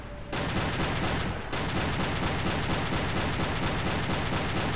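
Submarine deck gun in Silent Hunter III firing rapidly at a ship, a steady train of evenly spaced loud reports, about four per second, with one short pause early on, dense and close.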